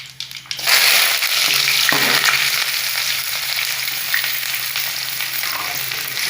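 Curry leaves and chopped onion hit hot oil with popped mustard seeds for a cauliflower and potato fry, bursting into a loud, crackling sizzle after a quieter start and then settling into steady frying.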